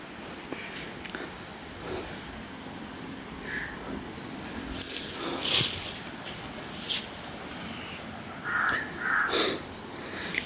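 A crow caws several times in a video game, in short harsh calls spread over about ten seconds against a soft background hiss, moderately close, with no speech.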